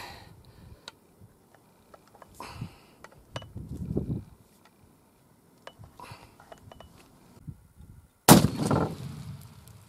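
A muzzleloader fires an overloaded charge topped with a mini ball, one sharp loud blast near the end after scattered handling clatter and quiet movement on a testing bench.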